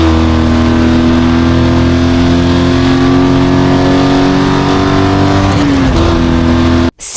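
In Need for Speed Most Wanted, an Aston Martin DB9 fitted with the pro engine upgrade runs at a loud, sustained high-rev whine, with a short gear-change drop near the end before the sound cuts out.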